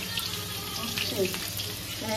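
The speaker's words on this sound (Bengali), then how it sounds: "ডিমের অমলেট ভাজা হয়েছে, অ্যাকচুয়ালি পোচের মতন করে ভেজেছে আর কি।" An egg omelette fries in a pan with a steady, soft sizzle running throughout, with a bit of clatter nearby and a person talking over it.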